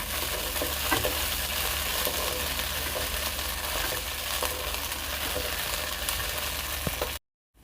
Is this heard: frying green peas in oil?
yes